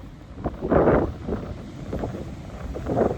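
Storm wind gusts across Chesil Beach at Abbotsbury, buffeting the microphone in uneven rumbling bursts that rise and fall over a few seconds, with no voices.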